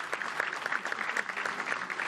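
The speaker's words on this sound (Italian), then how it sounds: "Questo è l'applauso dedicato al Presidente della Repubblica Mattarella" Applause for Italy's President of the Republic, Mattarella, at an official ceremony in Genoa: dense, steady clapping from a crowd, moderately loud and brief, with no voices.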